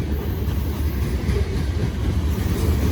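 A long freight train with a distributed power unit locomotive rolls past close by, a steady heavy low rumble of wheels and cars running continuously without a break.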